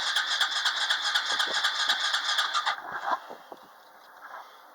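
An ATV engine cold starting with a little throttle catches and runs in a rapid rattling rhythm, then drops to a quieter, unsteady idle after about three seconds.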